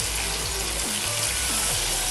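Chopped onions and ground tomato sauté in oil in a pan for beef tikka biryani, giving a continuous close hiss and sizzle with no pauses.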